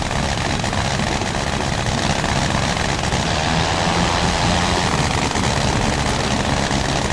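A WWI aircraft taxis in the Rise of Flight game, its engine a loud, constant, close droning roar that stays unbroken the whole time and has no talk over it.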